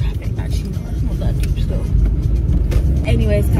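Road traffic heard from a car on a half-hour drive: a steady, loud engine and tyre rumble with passing vehicles, and some talk mixed in.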